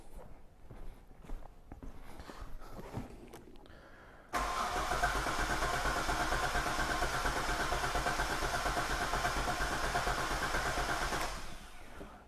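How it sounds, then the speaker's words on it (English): A Hyundai Terracan with a misfire cranks during a compression test, a loud, steady rhythmic churn of the starter turning the engine over for about seven seconds before stopping, preceded by quieter shuffling and movement nearby. "Let me just keep cranking it, keep cranking it."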